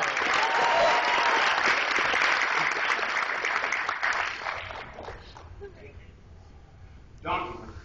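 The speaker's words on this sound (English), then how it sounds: "give her a round of applause" Loud, sustained applause from a convention workshop audience, clapping densely at first and then thinning and fading toward the end, with a brief swell just before it stops.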